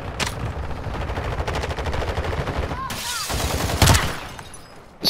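Rapid automatic gunfire in Call of Duty: Modern Warfare II, a fast, evenly spaced string of shots with a few sharp louder blasts later, mixed with game sounds and a voice talking.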